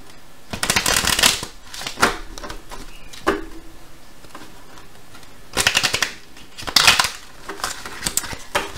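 Lenormand cards being shuffled close up during a reading, several short bursts of riffling and flicking separated by quiet pauses.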